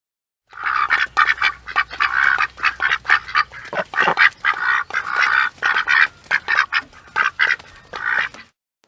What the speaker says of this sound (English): Can you find the ducks?